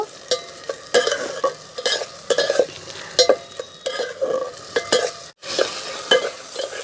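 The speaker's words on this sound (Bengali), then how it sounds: "অল্প করে চিনি এক চামচ কাঁচা লঙ্কা বাটা এই মশলাগুলো আমি ভালো করে একটুখানি কষিয়ে নেব" Ginger, garlic and green chilli paste with a little sugar stir-fried in a pan for chicken kosha, with repeated close spoon scrapes and knocks over a soft sizzle, no talking.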